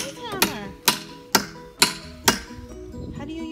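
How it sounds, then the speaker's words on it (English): A hammer bangs on a wooden deck in five sharp, evenly spaced blows about half a second apart, close and loud, with a few softer taps at the end. "Look at Daddy using his hammer."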